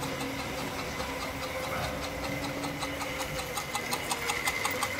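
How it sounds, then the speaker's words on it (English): A Triang RS52 Blue Pullman model train runs on a small layout with a steady mechanical whirr and rapid ticking from its drive, continuous and fairly close, with no voices. "the mechanical noise from the tender, some people find it annoying,"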